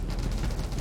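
Dense, loud burst of explosions and rapid gunfire-like blasts from the 20 Minutes Till Dawn video game, packed into a brief continuous roar without any speech.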